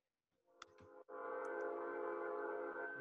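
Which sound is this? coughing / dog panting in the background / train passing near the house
train passing near the house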